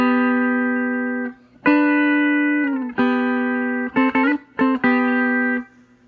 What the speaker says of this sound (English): Double stops are two notes played in harmony, two strings being played.